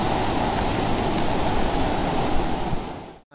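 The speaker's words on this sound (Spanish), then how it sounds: "Es imposible caminar con semejante cantidad de agua, y sobre todo miren las piedras que arrastra el agua" Heavy floodwater rushes past after a hailstorm, a dense steady roar with churning undertones that could be stones dragged along, loud and continuous before cutting off abruptly at the end.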